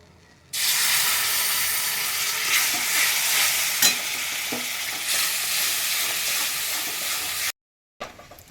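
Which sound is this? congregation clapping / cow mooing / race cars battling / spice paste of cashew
spice paste of cashew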